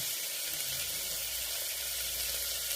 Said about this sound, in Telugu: దొండకాయలు వేసి కాస్త ఫ్రై చేయాలండి